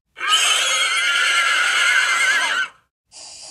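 A horse gives one loud, long, wavering neigh close by, then falls silent before a shorter, fainter whinny begins.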